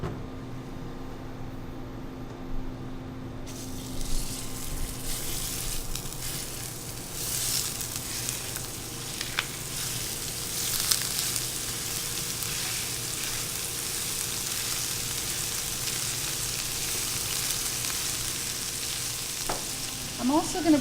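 Lean beef from a local butcher frying in olive oil gives a steady, loud sizzle throughout, with occasional spatula scrapes and clatter near the end.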